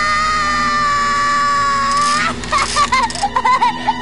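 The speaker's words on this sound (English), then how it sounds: "Are you screaming?" A scream in a Psychonauts cutscene, a long sustained high wail that breaks into sobbing, whimpering bursts, loud and close over game music.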